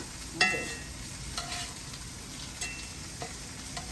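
Bread dough frying in hot oil, a steady close sizzle and crackle with a few faint clinks of a utensil.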